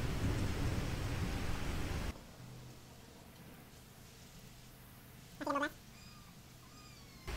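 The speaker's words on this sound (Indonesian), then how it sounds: "Dan di sini kucing gue mulai berisik." A pet cat lets out a short, clear meow in a quiet room after a stretch of steady rain-like noise, with a faint low hum running underneath.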